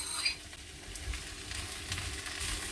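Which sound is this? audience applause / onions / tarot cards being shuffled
onions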